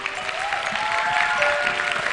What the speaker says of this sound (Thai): ปรบมือให้ตัวเองค่ะ